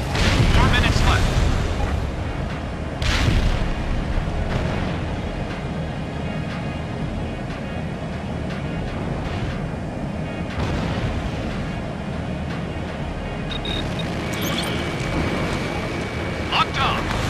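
Missile launches and explosions from an EA-6B Prowler strike over the Alps Air Corridor in Ace Combat Infinity, heard as a sustained roar of engine and blast noise with several sharp booms along the way.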